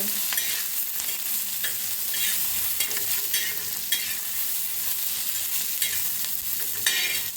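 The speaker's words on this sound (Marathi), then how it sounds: "थोडंसं जिरं टाकायचं आणि मिक्स करून भाजून घेऊया जिऱ्याला" Cumin seeds roast in oil in a pan, giving a steady close sizzle broken by repeated scraping stirs of a spoon, with no voices over it.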